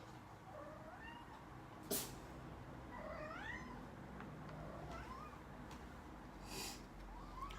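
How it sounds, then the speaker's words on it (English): A cat meows several times in short, rising and falling calls at moderate distance, with a couple of sharp knocks in an otherwise quiet room. "And what are you meowing at?"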